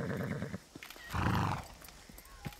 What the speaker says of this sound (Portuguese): Podem tirar fotos e os cavalos descansam um pouco.